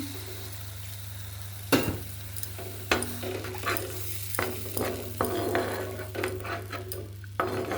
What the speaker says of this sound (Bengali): মশলাটা এই যে কষে নিয়েছি, তেল ছেড়ে এসেছে, আর একটু জল দিয়ে দিচ্ছি